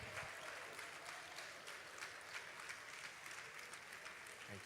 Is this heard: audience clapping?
yes